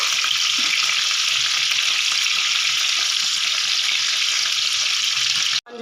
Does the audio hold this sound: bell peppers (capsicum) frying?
yes